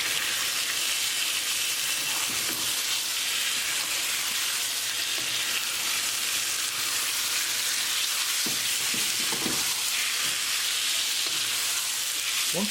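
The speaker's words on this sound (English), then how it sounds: "Cooking spices along with tadka for 1 minute. Now add beef." Beef frying in a pan with spices and tadka for a curry, a loud continuous hissing sizzle throughout, with occasional scrapes and thumps of stirring close by.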